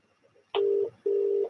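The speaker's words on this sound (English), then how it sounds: "going to give me a ring now and see who's there." A telephone ringback tone sounds twice, each a steady electronic buzz under half a second long with a short gap between, clear and alone over faint background hiss.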